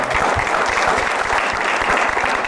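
A studio audience bursts into sustained, steady applause for the winning couple of a family game show segment, dense clapping filling the room with no voices over it.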